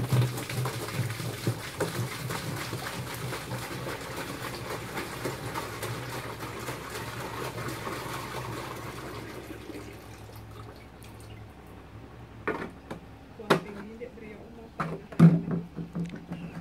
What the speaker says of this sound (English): Put in 10 liters of the water into a container.